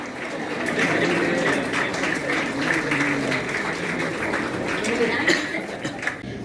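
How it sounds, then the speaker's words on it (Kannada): Audience applauding a teacher at a Teachers' Day tribute ceremony at a school, sustained dense clapping from a crowd lasting several seconds with faint voices mixed in. "ಚಪ್ಪಾಳೆ ನಮ್ಮ ಶಾರದಾ ಮೇಡಮ್ಗಾಗಿ"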